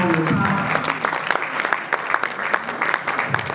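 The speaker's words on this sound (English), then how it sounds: "Please, a round of applause" Audience applause at a leadership conference session, dense rapid clapping from a crowd running throughout at steady strength, with a voice speaking faintly underneath.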